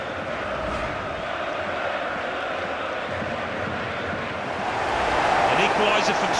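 A football stadium crowd roars after an equaliser in a Super League 2010/11 match, a dense, steady wall of cheering that swells louder near the end.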